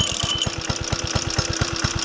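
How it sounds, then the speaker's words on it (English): A vintage Ransomes Marquis lawn mower with a sloper engine runs steadily nearby, a loud, even chugging pulse of rapid regular beats with a faint ringing tone on top. "Ransomes Marquis with a sloper engine, now fully running and fully operational"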